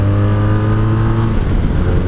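A 1984 Honda Sabre VF1100S motorcycle engine drones steadily while riding, a loud, close, continuous low hum with harmonic tones that shift slightly as the rider changes gears, with no talking.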